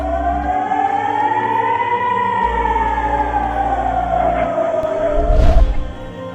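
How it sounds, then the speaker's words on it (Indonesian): A rocket warning siren in southern Israel wails in a slow, steady rising and falling tone, with a low rumble and a brief burst of noise near the end. "Sirene berbunyi di 2 kota besar di selatan Israel yang memperingatkan akan adanya tembakan dari Gaza."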